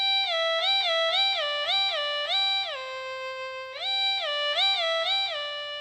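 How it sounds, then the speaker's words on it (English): A Carry-On Digital Wind Instrument 2 Plus plays rapid note jumps with portamento engaged, each leap gliding smoothly up and down in a repeated rhythmic figure, bright and synthetic, with no talking. "And then if you press the Portamento key at the same time with your right hand"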